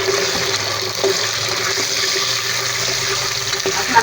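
Cut taro pieces go into hot oil for a curry and set off a loud, broadband frying sizzle. It is dense and steady at close range, with small pops and no talking.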